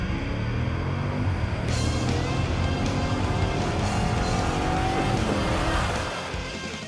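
A Jeep Grand Cherokee's engine roars hard as it launches under launch control from 4,000 revs and accelerates, revs climbing through gear changes with some tire noise, loud and close.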